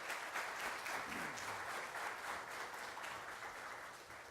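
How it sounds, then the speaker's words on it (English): Sustained applause from an audience, dense and steady clapping filling the room, fading slightly toward the end. "Let's give them a few rounds of applause."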